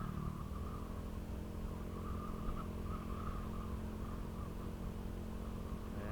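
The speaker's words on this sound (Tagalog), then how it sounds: "ang bilis ng motor niya." A motorcycle engine drones at speed, steady and loud with a constant roar and whine and no clear rise or fall of a pass-by.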